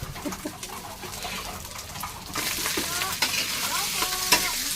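Rice sizzles and crackles in hot cooking oil for fried rice with egg, a steady close frying hiss with stirring scrapes, swelling louder halfway through, while birds coo faintly in the background.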